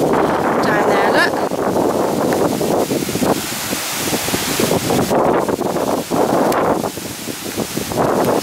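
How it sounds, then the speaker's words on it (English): Strong gusting wind buffets the microphone on an exposed hillside above Portishead, a continuous loud roar that rises and dips, with people talking faintly underneath. "It's very windy now."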